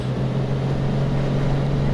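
Steady single-engine piston drone of a Cessna Centurion at takeoff power in the X-Plane 10 flight simulator, a constant loud hum holding one even pitch with no variation and no voices.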